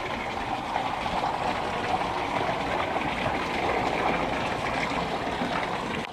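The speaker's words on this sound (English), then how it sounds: "we got a free waterfall and some real plants." A small indoor waterfall runs inside a minimart, giving a steady, even wash of splashing water that holds constant from start to finish.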